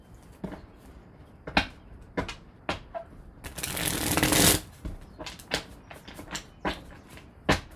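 Tarot cards are shuffled by hand in a series of sharp riffling snaps, with one longer continuous riffle in the middle, close and crisp with no talking.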